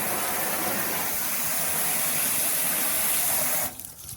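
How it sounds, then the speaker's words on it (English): Hose spray blasting up inside a car wheel well to wash off road salt, a loud continuous hissing gush of water that cuts off abruptly near the end. "You'll hear the water hitting up around inside the wheel well"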